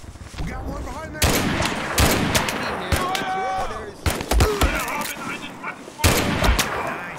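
Several bursts of gunfire crack through a battle in the war game Mud and Blood, with close, loud volleys spaced a second or two apart among shouted voices.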